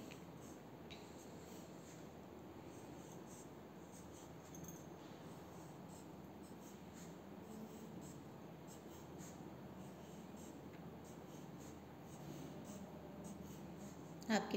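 Pencil on paper, a faint, steady scratching of writing, heard close and quiet with no talking.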